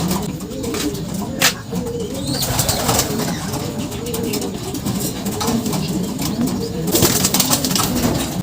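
Pigeons coo in repeated soft, throaty phrases close by, with sharp flutters and clicks breaking through now and then, under a faint murmur of talk.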